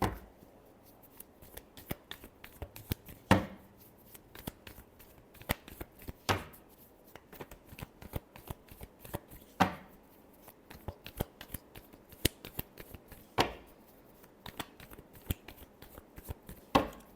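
Tarot cards are shuffled by hand in repeated riffling bursts, sharp flurries recurring every few seconds with softer card slides between, close and fairly quiet, no speech.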